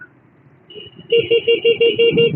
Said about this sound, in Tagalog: tinatagtad na siya ng busina